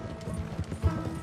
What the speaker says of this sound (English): By tapping A in time with your horse's gallop, it would stop it standing up from draining